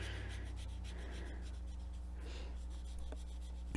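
Marker ink is laid onto paper in a coloring book, giving soft, continuous scratchy strokes with short rhythmic rubs, close and quiet over a low steady hum.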